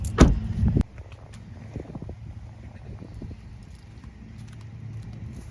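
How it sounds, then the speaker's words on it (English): A Ford F-150 pickup shuts off with a short loud engine rumble that cuts out abruptly, followed by faint clicks and a low quiet hum. "you just got to go ahead and press this brake real quick. Truck turns off."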